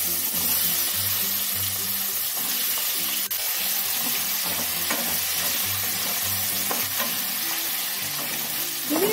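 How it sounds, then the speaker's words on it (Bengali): Chopped kohlrabi sizzles in hot oil with cumin seeds and a pinch of asafoetida, a steady close hiss punctuated by occasional scraping and clicking as it is stirred. "জিরেটা একটু ভাজা ভাজা হয়ে গেলে এর মধ্যে কেটে রাখা ওলকপিগুলো দিয়ে দেবো।"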